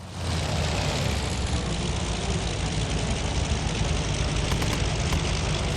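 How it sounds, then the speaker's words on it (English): Propeller engine of a float plane in the naval combat game Task Force Admiral, a loud, steady droning roar held evenly throughout with no talk. "Yep, it's a float plane."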